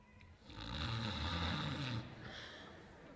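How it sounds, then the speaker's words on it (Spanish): A man snores in a Christmas musical stage scene, one long, steady, fairly close rasping inhale that fades into a softer tail, with no speech over it. "no ronque"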